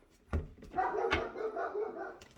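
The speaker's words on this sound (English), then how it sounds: "I apologize if you hear my dog barking in the background." A dog barks twice in the background, short muffled woofs separated by a whiny, whimpering sound, fairly faint and indoors.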